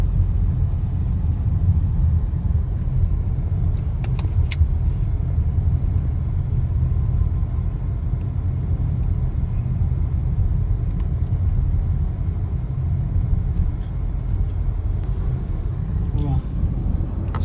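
Toyota Etios GD car driving through light midday traffic, a steady low engine and road rumble heard from inside the cabin, with a voice talking over it.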